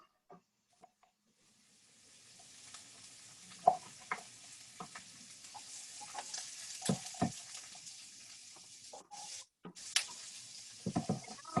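Onions and carrots go into a pan and begin sizzling after a quiet start, building to a soft, steady hiss with scattered clicks and clatter of stirring, no talking.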